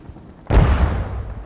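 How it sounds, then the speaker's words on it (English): A grenade blast in the military shooter game Squad: one sudden heavy boom with a deep rumbling tail that fades over about a second, loud and close, with no talk over it. "Grenade."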